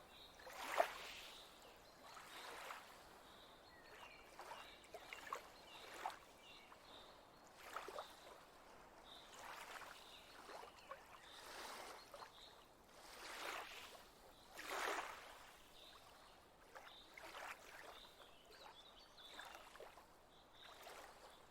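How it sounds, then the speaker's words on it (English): Lake water laps gently against the shore in soft, irregular swells, quiet and close, with small splashes rising and falling over a calm, low background. "gently lapping against the shore."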